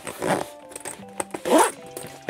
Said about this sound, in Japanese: このチャックが両方から閉められるのもめっちゃいいところですね